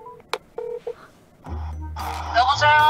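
Phone keypad dialing tones as a call is placed, several short distinct beeps followed by a rising ringback and other sounds, with someone talking partway through.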